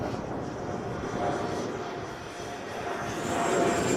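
An Arrows Hobby L-39 50mm EDF model jet flies near full throttle, its ducted fan giving a steady whooshing whine that rises in pitch as it passes, moderately loud and alone.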